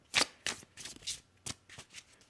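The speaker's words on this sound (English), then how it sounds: "Oh my gosh, this shuffles so nice." Cards are shuffled in several quick, separate bursts of papery flicking, close and fairly quiet, with brief pauses between them.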